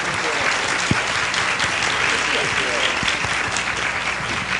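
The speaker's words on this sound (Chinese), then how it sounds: "老师掌声，好吧？" Audience applause in a university lecture hall, sustained dense clapping from a crowd for several seconds, with voices mixed in underneath.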